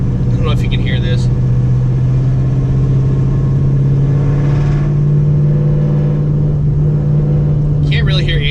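A 2015 Chevrolet Camaro SS fitted with an Eaton TrueTrac differential cruises with a deep, steady exhaust rumble filling the cabin, while someone talks over it throughout.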